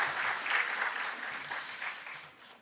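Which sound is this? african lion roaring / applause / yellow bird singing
applause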